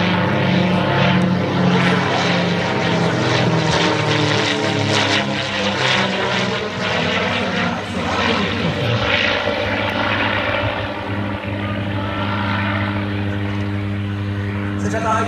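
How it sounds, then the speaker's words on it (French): A de Havilland Mosquito twin-engine propeller plane flies a display, a loud, sustained droning roar of piston engines whose pitch shifts as it passes, with a commentator talking over it. "Ce De Havilland de Mosquito, il effectue également quelques opérations de chasse, puisque comme je vous le disais, il était plus rapide que certains des avions de chasse allemands."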